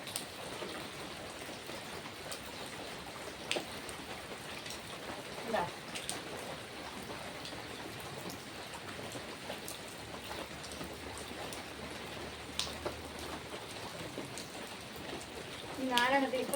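Steady rain falling outdoors on a garden where potatoes are planted in grow bags, a soft continuous patter with occasional louder drops, close by and moderately faint, with some background activity near the end.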